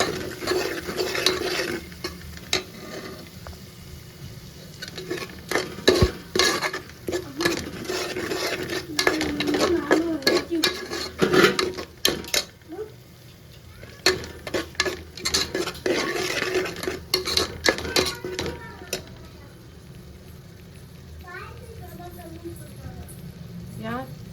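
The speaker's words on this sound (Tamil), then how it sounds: "கொஞ்சமாக பிரியாணி மசாலா போட்டு நல்லா வந்து தட்டிக்கலாம்" Tomato rice with biryani masala being stirred in a pan, with repeated scraping and clinking of a spoon against metal and a light sizzle underneath, while a person talks throughout.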